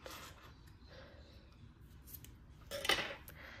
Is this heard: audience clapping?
no